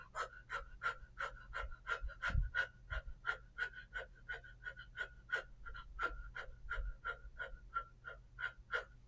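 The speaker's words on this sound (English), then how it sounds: "you're just going to breathe low and shallow and fast" Rapid, shallow panting breaths in a steady, fast rhythm, close and fairly quiet, with no talking over them.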